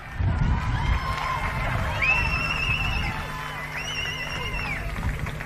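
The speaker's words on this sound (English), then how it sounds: "applause from the crowd." A women's football crowd cheering and applauding after the goalkeeper saves a penalty, a broad roar of shouts and claps with a whistle-like tone rising through it, loud and sustained.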